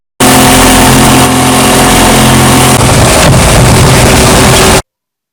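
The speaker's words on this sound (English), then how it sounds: "The well-tuned outboard motor carries us in at a very good rate." A well-tuned outboard motor drives a small boat across Yaquina Bay with a loud, steady drone, while wind buffets the microphone and the engine tone shifts partway through.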